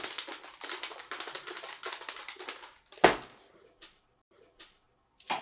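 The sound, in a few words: matches being mixed together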